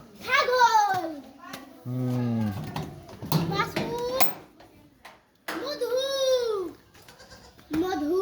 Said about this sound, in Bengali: এই যে মার ছাগল